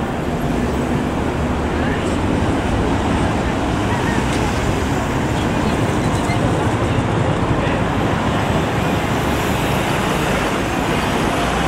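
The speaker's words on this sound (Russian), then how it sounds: "Здесь, как всегда, тягучки на Почтовой площади, машин большое количество." Dense, continuous roar of heavy car traffic at Poshtova Square in central Kyiv, a loud unbroken wash of engines and tyres with faint voices mixed in.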